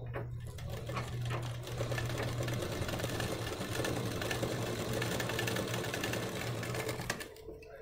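A sewing machine stitches blouse fabric with a fast, steady mechanical whirr and rattle at close range, running almost continuously before stopping near the end.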